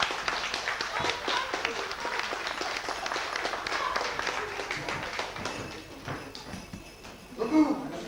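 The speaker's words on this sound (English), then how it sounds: "If you believe, clap your hands" An audience in a Peter Pan stage show claps hands to save Tinker Bell, a dense, steady patter of many hands that thins out near the end, where a voice briefly speaks.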